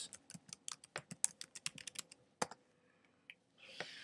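Computer keyboard keys tapped in quick irregular bursts while entering login credentials, close and fairly quiet, with a short pause before a final flurry of keystrokes.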